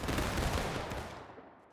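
Musket volley in the Civil War game War of Rights during an Antietam battle: a dense, crackling burst of many shots fired together that fades over under two seconds, moderately faint, with no talk.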